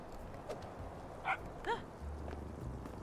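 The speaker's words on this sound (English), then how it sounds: "There's another dog." A dog in the video game Little Kitty Big City gives two short barks in quick succession amid quiet ambient background noise, fairly faint and without talk.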